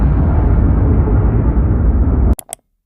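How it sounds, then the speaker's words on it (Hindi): A long, heavy roar of blast rumble from a 20-ton TNT explosion dominates, then cuts off abruptly, followed by two short sharp bursts and silence. "अभी तुमने जो धमाका देखा वो 20 टन टीएनटी एक्सप्लोजन का"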